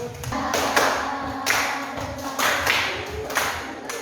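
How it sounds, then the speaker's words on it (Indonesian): Clapping for a student group presenting needle magnets in an Indonesian classroom, several bursts of hands applauding in quick rhythmic patter, close and fairly loud, with no talk over it. "Berikan tepuk tangan untuk kelompok magnet jarum."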